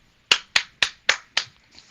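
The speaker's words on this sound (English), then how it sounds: "I can hear it because my parents are clapping" Five sharp, evenly spaced hand claps ring out in quick succession, crisp and fairly loud with short decays, from parents cheering a Philadelphia goal.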